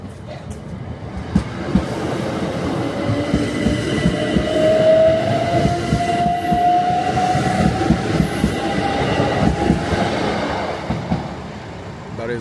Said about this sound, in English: Anyway, this train's coming out now